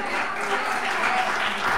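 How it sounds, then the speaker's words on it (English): A church congregation claps in sustained applause, a dense wash of many hands at steady loudness, with faint voices mixed in. "Give him a big round of applause."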